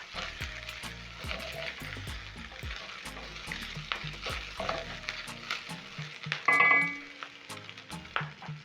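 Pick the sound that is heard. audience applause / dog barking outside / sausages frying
sausages frying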